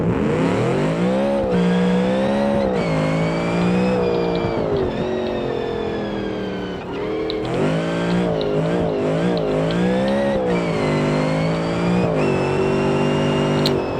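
Supercar engine inspired by the Spyker C8 in BeamNG Drive, revving up and down through gear changes with a steady loud drone and occasional tire squeal.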